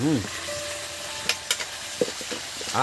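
Ginger paste frying in hot oil, a close steady sizzle with a few sharp spatula scrapes and clinks against the pan over a few seconds.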